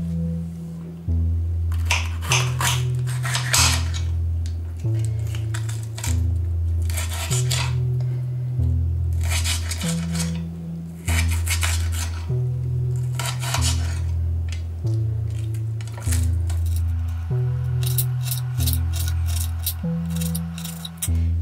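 A knife chopping red pepper into small pieces on a cutting board, rapid sharp clacks in quick repeated runs with short pauses, close and loud over a steady low background hum.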